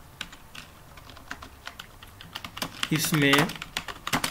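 Typing on a computer keyboard while entering Urdu text in InPage software, with a rapid, uneven run of light key clicks and a brief bright tone near the end, and a voice speaking softly over it.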